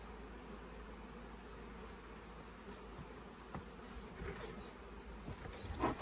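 Honeybees fan and fly around a beehive entrance on a UK bee farm, a faint, steady buzzing hum with individual bees zipping close by now and then.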